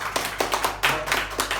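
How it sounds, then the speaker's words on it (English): A short round of close, distinct hand claps from a small audience at a coaching session, irregular bursts without talk. "Everyone, let's give him a round of applause."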